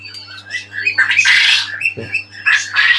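Quails and king quails squawk and chirp in a rapid run of shrill calls, close by and fairly loud, with a few brief pauses between bursts.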